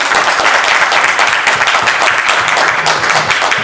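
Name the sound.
audience applause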